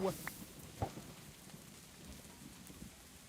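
Rain falls in the Minecraft Pokemon mod game, a soft, faint, steady hiss with a few brief louder ticks near the start.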